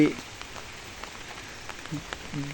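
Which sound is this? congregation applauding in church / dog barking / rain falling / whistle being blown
rain falling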